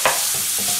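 Garlic shrimp with chili flakes, black pepper and parsley gets a quick stir in a hot pan: a short scraping swish over a soft sizzle, close and brief.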